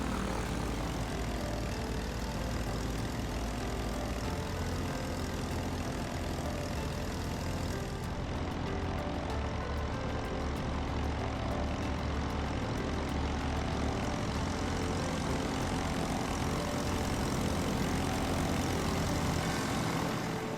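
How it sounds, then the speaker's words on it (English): Jabiru four-stroke 2200cc aircraft engine in the IRIS Simulations Jabiru J160/J170 for Microsoft Flight Simulator, a loud, continuous propeller drone with steady throbbing low rumble, sustained and uniform throughout with no talking. "The team at Iris Simulations have recorded the sounds you're hearing directly from the Jabiru engine,"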